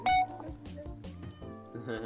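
A Minecraft cat gives a few short meows amid game sounds and a brief loud pop, with a player talking over the top.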